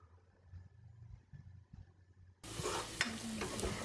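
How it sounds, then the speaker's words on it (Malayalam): Onion sautéing in a pan with ginger garlic paste, quiet rustling that suddenly bursts into loud steady sizzling halfway through, with a stirring scrape or two. "ഇനി ഇതിനകത്ത് ഒരു 2 ടീസ്പൂൺ ഇഞ്ചി വെളുത്തുള്ളി പേസ്റ്റും കൂടി ചേർത്തിട്ട് വീണ്ടും നന്നായിട്ട് വഴറ്റിയെടുക്കണം"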